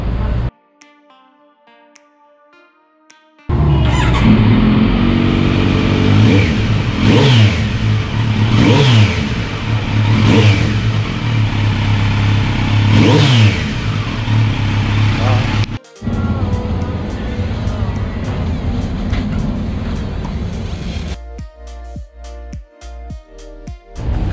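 A Kawasaki Z900 motorcycle fitted with an Orion slip-on exhaust revs loudly and close by in repeated sharp bursts over a steady idle, then settles to a rougher idle before cutting off.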